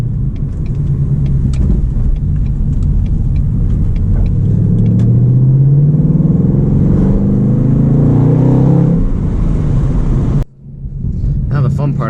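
A car with a Coyote engine cruises along winding roads as a loud, steady engine rumble rises and falls with gear changes, then dips sharply near the end before picking up again.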